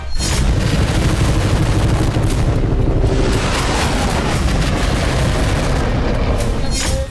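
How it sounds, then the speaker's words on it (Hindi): Loud, continuous rumbling barrage of heavy artillery and tank gunfire, including T-90 tanks, and booming blasts, overlapping explosions blending into a sustained roar throughout. "हमारी तोपों, टैंकों और लड़ाकू जहाजों की ये गर्जना ही भारत की शक्ति है"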